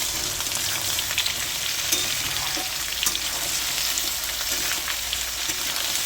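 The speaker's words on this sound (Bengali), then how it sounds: "এবার এঁচোড়গুলো এর মধ্যে দিয়ে দেবো, দুটো একসাথেই লাল হবে" Young jackfruit and onions sizzle in a pan, a steady bright frying hiss with occasional stirring scrapes and clinks, heard close and without talk.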